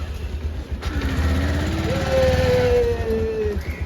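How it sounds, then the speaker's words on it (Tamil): A motorcycle engine starts and settles into a steady idle, with a rising tonal whine over a low rumble; fairly loud and close. "பைக் ஸ்டார்ட் பண்ணிட்டு போறோம்."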